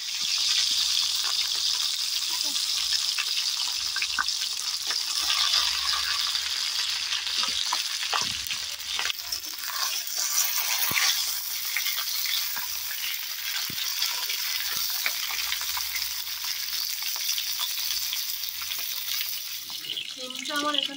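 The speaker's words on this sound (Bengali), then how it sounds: "এবার তেলের মধ্যে আমি দিয়ে দেবো সিমগুলোকে খুব ভালোভাবে ভেজে নেব।" Flat broad beans frying in hot oil for a Bengali gondhoraj sim curry, a steady broad sizzle running throughout with occasional stirring clatter and a brief tonal sound near the end.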